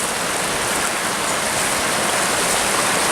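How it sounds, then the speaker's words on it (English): Creek water rushes steadily at a trail crossing on a shale ridge, a loud, continuous broadband wash that stays even throughout with no voices. "This must be that last creek crossing."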